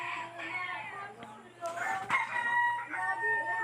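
Young Rhode Island Red and Black Australorp chickens, almost two months old, in a free-range net enclosure on a backyard farm, giving nearby chirps, clucks and crowing calls, with a voice faintly mixed in.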